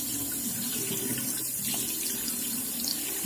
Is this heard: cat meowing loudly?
no